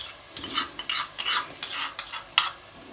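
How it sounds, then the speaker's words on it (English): A rice and beans mixture is stirred in a frying pot, with repeated scraping strokes in an uneven rhythm over a soft sizzle, close and fairly quiet. "Just stir it till it starts going brown."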